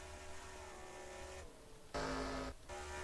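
Race trucks in a series event at Charlotte speedway, engines droning at high pitch, with one louder truck surging past up close for about half a second before the steady roar returns.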